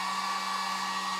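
A hair dryer blows on a craft door hanger, a steady, close, even whoosh with a constant motor hum throughout.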